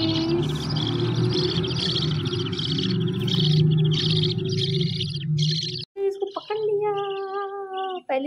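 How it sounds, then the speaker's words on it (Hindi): Newborn baby parrots chirp and squeak in rapid, high, close-up bursts, first over a steady low hum, then in clearer repeated whistled peeps near the end. "पहली दफा मैं पकड़ रही हूँ तोते के बच्चे।"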